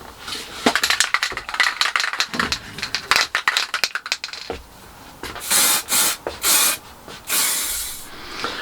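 A spray can lays down a guide coat in a small shed workshop: a run of quick hissing bursts and rattles, then several longer, louder sprays heard up close.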